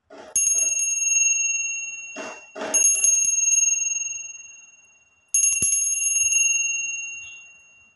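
A small hand bell rung as the opening signal of a Chinese fortune-telling ritual: two bright ringing strikes that sustain and slowly fade, separated by soft rustling handling sounds, with no voices.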